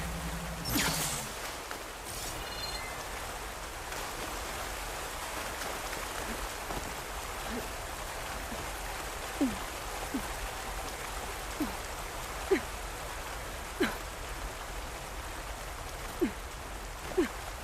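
Steady rushing waterfall ambience in Horizon Forbidden West, a broadband wash of falling water holding evenly throughout, with a few soft watery plinks and splashes scattered over it and no one speaking.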